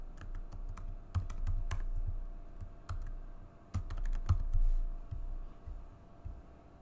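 Someone types a name on a computer keyboard with quick, irregular bursts of close clicking keystrokes separated by short pauses, and no one speaks.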